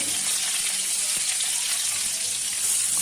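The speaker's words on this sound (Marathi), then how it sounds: "त्यामध्ये ही बारीक चिरलेली मिरची घालायची आहे आणि त्यानंतर कढीपत्ता घालायचा आहे" Finely chopped green chillies and curry leaves hiss and sizzle in hot oil with cumin seeds in a pan for tondali bhaji, a steady close, loud frying crackle throughout.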